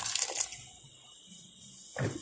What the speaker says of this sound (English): So at this point I'm also going to add some more water.